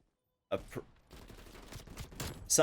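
Pellington 703 sniper rifle fired in a video game, a sharp close shot bursting out of silence followed by further crackling gunfire and game noise.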